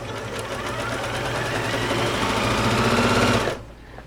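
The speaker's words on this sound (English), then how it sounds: "let's say you want to do like a number 11, which is a zigzag stitch" An Elna eXcellence 730 Pro sewing machine running a zigzag stitch, a steady fast mechanical whirr with a rapid needle rhythm, close and loud for about three and a half seconds before it stops.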